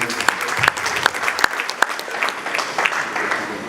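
Audience applause fills a hall at a formal anniversary event, with dense steady clapping and a few sharper individual claps standing out throughout.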